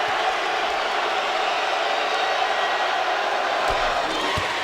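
A basketball arena crowd at an NCAA Tournament game between Robert Morris and Villanova roars steadily and loudly throughout, a dense wash of cheering and shouting with a couple of sharp thumps near the end.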